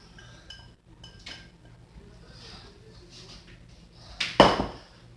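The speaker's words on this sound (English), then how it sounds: "now stir the cheese and let it melt inside" Spoon clinking and scraping in a pot while grated cheese is stirred in to melt, with a few light metallic taps and then a louder clattering burst near the end.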